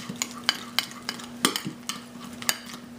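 Ingredients being stirred in olive oil on a hot griddle pan for tandoori fish, with repeated scraping strokes in an irregular rhythm over a faint steady sizzle, close up and with no talking.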